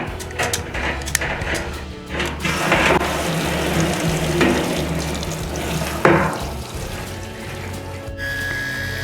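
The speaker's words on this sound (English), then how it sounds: "So now I can fill it with water." Water running steadily from a tap into a solar fountain basin on a deck, a continuous splashing rush with a few clanks and knocks, and no talking.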